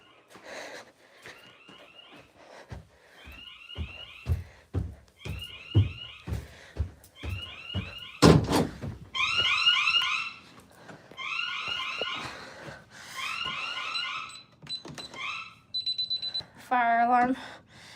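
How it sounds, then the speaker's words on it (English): A house fire alarm sounds in repeated bursts of shrill, pulsing electronic beeps, loud and close, with a sweeping tone near the end; breathing and brief voice sounds are mixed in between. "Fire alarm in the main house is still going off"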